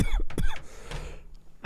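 A man coughs roughly several times in quick bursts near the start, then a short rasping cough or throat noise near the end, loud and close with no talking.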